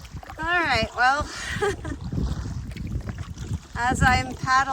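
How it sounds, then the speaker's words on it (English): A solo canoe moves upriver into a headwind in Temagami, with soft paddle strokes and water sounds beneath gusting wind, while someone talks throughout. "as I'm paddling back up the river"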